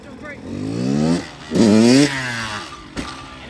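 A 2023 Kawasaki KX112 dirt bike revving hard as the front wheel lifts into a wheelie, two rising engine pulls close by with a brief lull between them and a short blip at the end.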